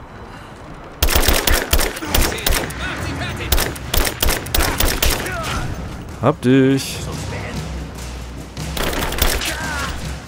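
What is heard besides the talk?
gunshots in a video game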